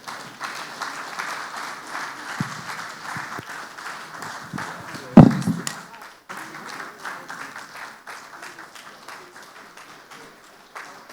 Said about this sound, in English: Please let's applaud Her Excellency one more time